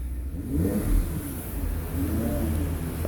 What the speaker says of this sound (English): You can hear the roar, the rumble of this particular vehicle.